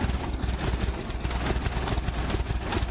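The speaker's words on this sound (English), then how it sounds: "The 1908 Buick Model 10 is a true piece of early American automotive history, built during the brass era when cars were still a new invention." A 1908 Buick Model 10 brass-era touring car with a small two-cylinder engine of about 22 horsepower runs steadily close by, a continuous knocking, throbbing idle with no voices.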